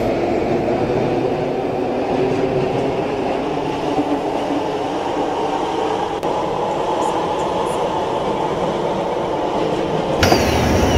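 An SMRT Set 001/002 metro train in Roblox rolls along steadily, a continuous loud rumble with faint wheel clatter throughout and a sharper brake-like hiss near the end, with no talking.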